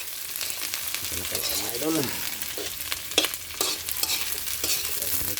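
Eggplant and egg frying in a pan on a home stove, with a steady sizzle and repeated scraping stirs of the spatula as someone speaks briefly over the cooking.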